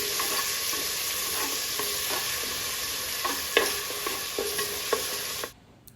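Steady sizzling of onion and tomato frying in oil, with scattered clicks of stirring, cutting off abruptly near the end.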